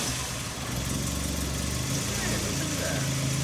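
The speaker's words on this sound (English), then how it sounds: "Hey, it sounds like a 4-cylinder again." A repaired four-cylinder engine runs at a steady, loud idle close by, a rough continuous rumble with people talking over it.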